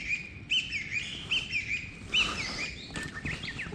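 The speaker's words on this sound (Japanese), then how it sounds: "あ、ウグイスや。いろんな鳥いるんじゃん。" A Japanese bush warbler (uguisu) sings beside a mountain stream, giving several clear, high, repeated chirps over the steady rush of flowing water.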